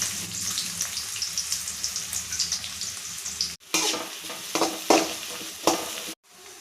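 Onion fries in hot oil with shahjeera and is stirred briskly, giving a loud, close sizzle with scraping strokes that stops briefly twice.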